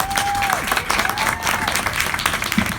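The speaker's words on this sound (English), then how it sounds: "Please give a round of applause for Daryl" Audience applause at a ceremony for a restored historic Coca-Cola clock sign, steady clapping from a crowd heard throughout, with a voice briefly rising over it near the start.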